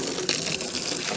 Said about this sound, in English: I do want to get it rinsed out so it's just not sitting there gross